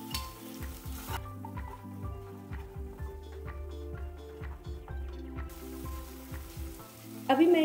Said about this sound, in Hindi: अभी मसाले हमारे अच्छी तरह फ्राई हो गए हैं